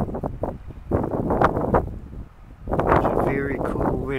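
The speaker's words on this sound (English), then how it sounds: "Very cool wind blowing from the west, northwest or southwest, somewhere along that line." Cool wind blows outdoors in gusty, buffeting bursts across the microphone, loud and close, rising and falling in waves.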